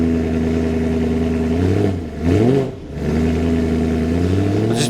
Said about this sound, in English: I'll give it a little rev because anytime we rev these cold